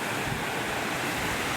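Ocean waves break and wash steadily on a shore at San Salvador, Luisiana, Laguna, a continuous broadband surf roar with wind buffeting the microphone, no voices.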